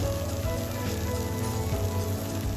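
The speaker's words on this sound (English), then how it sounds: "You can still hear it sizzling." A freshly baked zucchini slice just out of the oven sizzles with a soft, steady crackle and hiss, close and continuous without talk.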